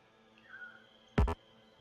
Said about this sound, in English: that little noise you heard was me standing too far away to be able to place it